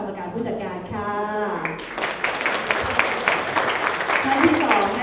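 Applause from an audience welcoming company executives at a Thai corporate presentation, a steady wash of clapping that rises after a voice and continues fairly loud to the end.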